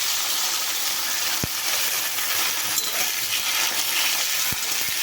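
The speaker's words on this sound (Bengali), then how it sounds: "একটু ভেজে নেব এই মশলাটাকে।" A ginger-garlic-cumin spice paste frying with onion in a pan, a dense, steady sizzle held close throughout, broken by two or three sharp knocks of a utensil, with no speech.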